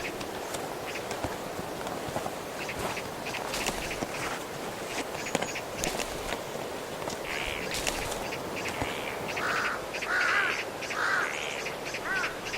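Wild vultures squabble over a carcass in a Central Asian winter. Their harsh calls and scuffling move around at a middle distance, with a louder run of squawks toward the end.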